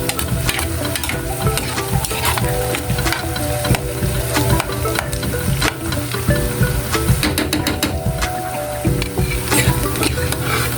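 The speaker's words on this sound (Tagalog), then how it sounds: "Halu-haluin lamang para maluto po yung bawang." Garlic fries in a pan with loud, steady sizzling while a utensil scrapes and stirs it in a continuous, irregular clatter, close up and with no talking.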